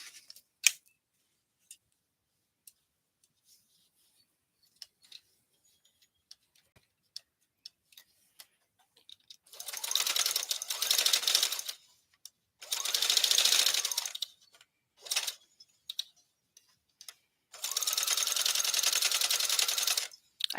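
A domestic sewing machine stitching up a memory bear sounds in four bursts of rapid, steady whirring, each a few seconds long, close and fairly loud, with near-silence and faint clicks between them.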